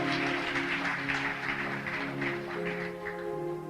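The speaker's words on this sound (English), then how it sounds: "Clap your hands together for Jesus." A church congregation clapping together during a sermon, a dense continuous patter of many hands over sustained organ or keyboard chords, steady in loudness throughout.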